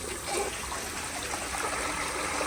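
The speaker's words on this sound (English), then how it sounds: "The tank is almost full, and here is another flush." A Seasons kindergarten toilet with an overfilled tank flushing, a steady close rush and trickle of water filling the bowl without voices.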